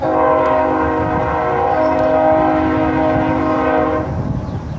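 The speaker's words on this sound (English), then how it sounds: "Yes, that's the train." A train's horn blares loudly and steadily over the rumble of rolling cars, then cuts off, leaving the rattling passage of the train.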